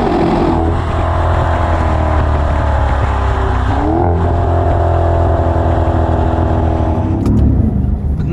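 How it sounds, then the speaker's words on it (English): A 580 hp Maserati Quattroporte Trofeo engine holding a steady, deep, loud rumble at low revs, with a few faint crackling exhaust pops near the end. "You hear that nice deep brum. And if you shift back, you hear a bit of the pops."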